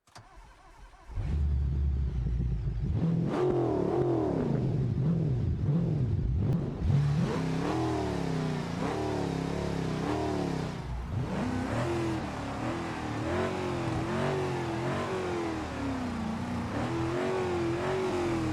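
A video game car engine from a PS3 racing game starts, then revs repeatedly through rising and falling pitches, a gruff, guttural, steady mechanical drone with no talking.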